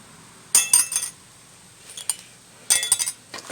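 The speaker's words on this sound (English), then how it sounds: "we're going to take the old brake hardware and take them out." Old brake hardware being removed from a 2004 Chevy Impala front brake, giving two clusters of bright metallic clinks and rattles, close and distinct, with a few lighter taps between them.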